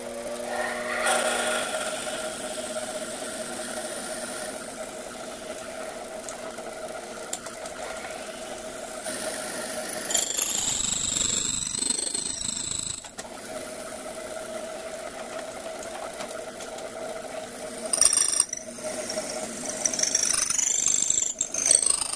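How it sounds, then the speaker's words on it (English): Drill boring a 3/16 hole lengthwise through a wooden rewind handle for a Senior 20 organ, a steady whirring grind with a louder, harsher burst midway and again near the end, close and alone. "We're going to drill a 3/16 hole through the length of the handle."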